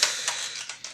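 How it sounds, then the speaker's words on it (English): An IBM 300GL desktop computer from 1999 gives off hard disk drive noise: a steady high whir with a sharp initial click and a few rhythmic ticks and seeks, close and fairly quiet, with no voices. "The hard disk drive makes noise, but this is normal."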